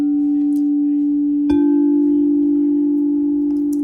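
A crystal singing bowl is struck once with a small mallet, giving a sharp attack over a steady, loud ringing hum that sustains throughout, with faint overtones fading slowly.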